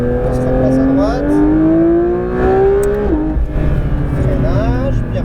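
Engine note of a Porsche 992 GT3 RS accelerating on a track, a loud, rising whine that climbs and then drops sharply, with an instructor talking over it from inside the car.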